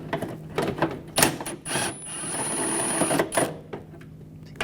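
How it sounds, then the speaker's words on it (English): A 10mm socket ratchet working nuts loose behind the inner fender well of a 2004–2009 Audi A4, with rapid clicking bursts broken by a steadier whirring stretch, close and fairly loud, no talking. "Using my 10mm socket."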